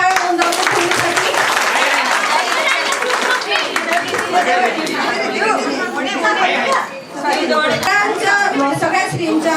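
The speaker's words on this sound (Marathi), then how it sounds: "सगळ्यांनी अजून एकदा जोरात टाळ्या होऊन जाऊ ध्रुवीसाठी." Guests clapping for Dhruvi at a traditional baby shower, a burst of applause mixed with lively crowd chatter and voices, close and loud, running throughout.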